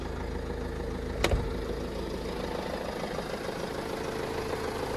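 A Vauxhall Vivaro 2.5 CDTI van's diesel engine idles with a soft, even rumble, heard at moderate distance. A single sharp knock cuts in briefly early on. No one talks.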